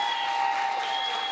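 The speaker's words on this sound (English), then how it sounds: "give them another hand of applause" An audience claps for young speakers at a live youth-edition event, a brief, even wash of many hands applauding with no voices over it.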